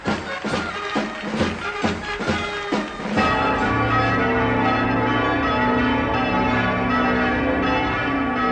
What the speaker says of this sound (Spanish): se anuncia con repique general de campanas en todas las iglesias de la nación